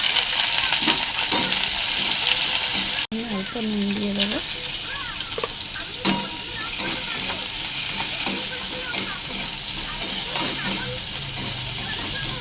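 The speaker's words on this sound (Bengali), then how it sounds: "সাদা তেল গরম হয়ে গেছে, তার মধ্যে আমি সবজিটা দিয়ে দেবো।" Beans, carrot and capsicum fry in hot white oil in a wok, giving a continuous loud sizzle with stirring scrapes and clinks, while a person speaks briefly over it.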